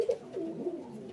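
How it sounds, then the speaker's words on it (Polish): Pigeons cooing inside a loft of crowned show pigeons, a soft low rolling coo heard close up over about a second. "mamy tutaj po kolei gołąbki"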